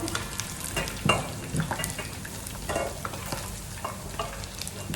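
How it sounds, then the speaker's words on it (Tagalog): Meat browning in a thick pan for Filipino adobo, a steady close sizzle and fry with frequent stirring scrapes and clacks throughout, no talking. "our meat is brown enough now, as you can see."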